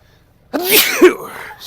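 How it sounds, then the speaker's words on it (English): A single loud, close sneeze bursts out after a moment of near silence, with a sharp breathy onset and a brief trailing exhale. "I'm going to sneeze again in a minute."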